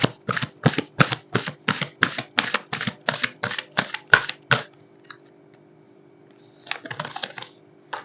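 Tarot cards are shuffled by hand in a quick, even run of about a dozen crisp, close slaps, followed by a pause and a shorter, softer flurry.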